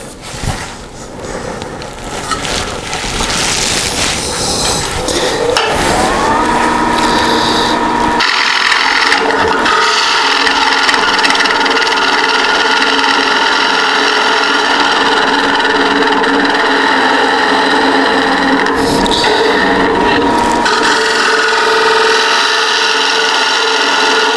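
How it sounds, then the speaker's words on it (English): A woodturning gouge cuts a beechwood yarn bowl spinning on a lathe, giving a loud, continuous rasping scrape of tool on wood that holds steady through the whole stretch, its tone shifting as the cut sweeps around. "when I get right about here, I start arcing my gouge up and around"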